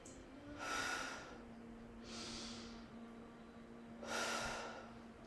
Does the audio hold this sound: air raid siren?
no